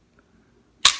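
A SIG P229 pistol's trigger resets with a single sharp, bright click, loud and close, after a near-silent pause.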